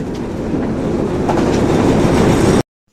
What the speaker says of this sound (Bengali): স্টেশনে আস্তে আস্তে সূর্য উঠে গিয়েছে, আর তার কিছুক্ষণ পর ট্রেনও চলে এসেছে।